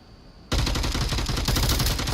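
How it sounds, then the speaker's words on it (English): After a brief quiet lead-in, rapid automatic gunfire in the VR shooter game Onward bursts out loudly and continues without pause, a dense rattling barrage of shots. "Gunshots coming from him."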